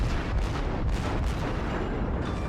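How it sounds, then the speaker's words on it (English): Naval gunfire from ten 203mm guns in World of Warships, a dense, quiet wash of rumbling booms and muffled blasts running continuously under battle noise. "Those 10 203mm guns just finish off destroyers so quickly."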